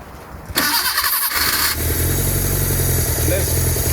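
An abandoned Bedford Rascal van's engine cranks and catches after six years unused, then settles into a loud, steady, slightly rough idle close by.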